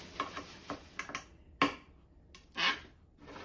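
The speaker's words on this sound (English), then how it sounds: "That noise was air conditioner blowing my plastic sheeting, my drop cloth." Plastic sheeting drop cloth blown by an air conditioner near a window: a series of faint, irregular crinkling ticks and rustles, with a few sharper crackles and a brief louder rustle, with no voices.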